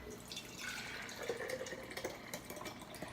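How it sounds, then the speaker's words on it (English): Cooking liquid drains off broccoli into a sink, a faint, close trickle of water with small splashes and drips running continuously for a few seconds. "I'm going to drain some of that liquid off because I don't think I'm going to need all of it for this recipe."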